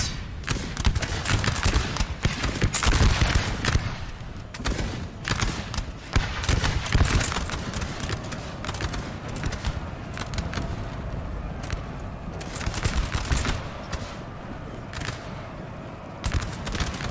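Massed battle noise from Napoleon Total War, a 4v4 battle with 17,000 men, as artillery booms and volleys of gunfire rumble steadily, loud and dense throughout.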